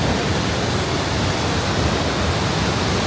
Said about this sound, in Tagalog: And yan na yung falls